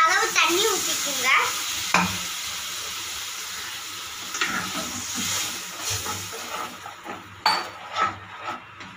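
Tomato curry with water hisses and bubbles in a pot over the heat, with occasional scrapes and clinks of a stirring utensil nearby.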